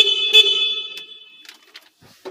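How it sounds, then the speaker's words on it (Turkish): A single short, steady horn honk from a Kuba electric van sounds up close at the start, followed by a few faint clicks and rustles. "Şuradan da basılıyor kornaya"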